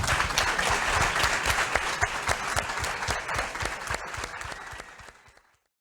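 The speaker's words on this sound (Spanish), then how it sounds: "Aplauso para Alejandra." An audience at a talk gives a burst of loud, dense applause that holds steady and then fades out to silence.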